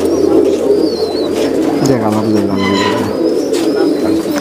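Fancy pigeons at a breeder's loft coo in low, throaty rolls, close and repeated, while someone talks over them and faint chirps break through.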